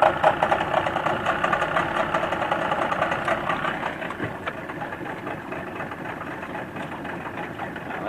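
A 40 horsepower Mariner outboard, made by Yamaha, drives a 1648 aluminum jumbo jon boat with a side console on a lake. It gives a steady mid-pitched engine drone, close and continuous, easing slightly in loudness partway through.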